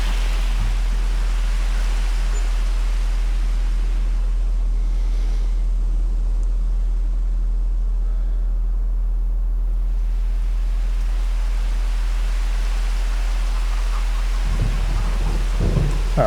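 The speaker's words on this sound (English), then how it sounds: "Oh, it's just a bit of rain." Steady heavy rain on a farm with low thunder rumbling through, continuous and enveloping, with a louder rumble near the end.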